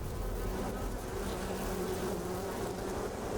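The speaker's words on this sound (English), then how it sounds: "These are full-on wasps." Wasps buzz steadily and close in Metal Gear Solid Delta, a dense insect drone that holds without a break for several seconds with no talking.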